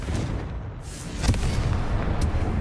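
A Confringo fire spell goes off in Hogwarts Legacy, a short muffled explosive burst in the middle of a low rumbling game soundscape, followed by a faint second crack.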